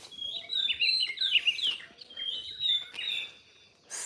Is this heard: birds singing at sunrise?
yes